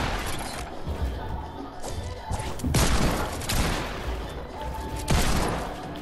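Rapid, loud video game gunfire crackles in dense bursts over a continuous noisy wash of battle sound during an online match.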